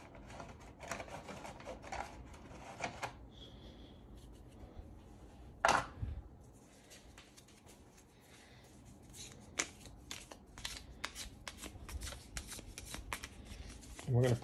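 Technology cards from the Dune: Imperium board game's Rise of Ix expansion being handled and shuffled on a table, with close, papery riffles and flicks, a sharp card slap midway, and a voice talking throughout.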